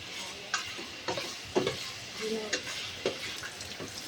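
Chopsuey ingredients sautéing in hot oil, a steady soft sizzle broken by repeated scraping stirs of a spatula against the pan, with a few faint clinks, moderately quiet.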